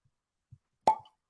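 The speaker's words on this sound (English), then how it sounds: "Oh, that's a great cork pop." A cork pops out of a bottle of store-pick whiskey in one sharp, loud, close pop, ringing briefly, with a few faint soft knocks around it.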